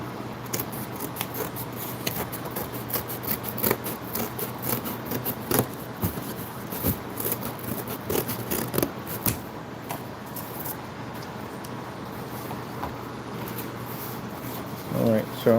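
Scissors snipping cardboard for the roof of a small medieval model village, a run of soft repeated cuts and rustling close by, under steady talking.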